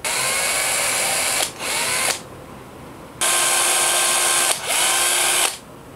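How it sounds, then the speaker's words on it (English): A drill bores holes in a metal wing for a topwater crawler fishing lure, giving two pairs of loud, steady high-pitched whirring runs with brief dips between them and a pause in the middle. "So let's go ahead and drill these other holes."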